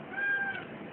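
A cat meows once, short and fairly faint, over low background noise in a kitchen where salmon tartare with truffle oil and dill is being prepared.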